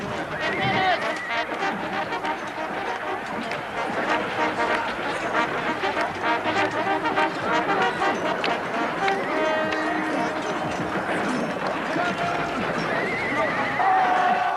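Horses neigh and whinny amid hoofbeats and the din of a battle reenactment, loud and continuous, with shouting crowd noise and commentary mixed in.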